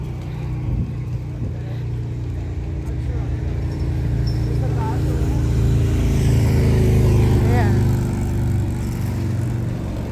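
A bus rolls past in city street traffic, a steady low rumble of engines that swells toward the middle and fades, with people talking over the traffic noise.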